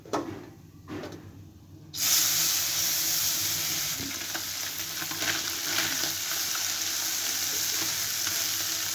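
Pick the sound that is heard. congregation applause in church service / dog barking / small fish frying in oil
small fish frying in oil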